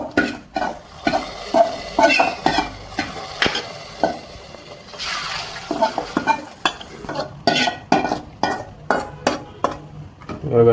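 Hot tempering is added to pressure-cooked vegetables for bisibele bath, then a spoon stirs and scrapes the pot in quick repeated clinks over a soft sizzle, close and fairly loud.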